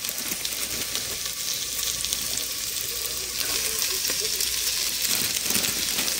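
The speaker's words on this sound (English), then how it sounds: "Now I'm gonna add some collard greens" Shredded collard greens hit a pan of sautéed onions and sizzle with a steady, bright hiss, close and continuous, with faint stirring scrapes underneath.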